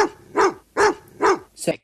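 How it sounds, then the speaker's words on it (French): Chained dogs bark aggressively in four loud, evenly spaced barks, close and clear, with the last one shorter and higher. "Ils jappent agressivement."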